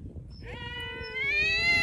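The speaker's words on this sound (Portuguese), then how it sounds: "Os gatinhos discutindo," Kittens fighting let out a single long, rising, nasal meow close by over a low background rumble.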